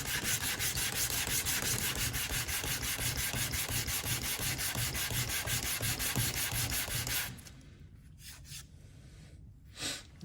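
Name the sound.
sanding a leather strop with sandpaper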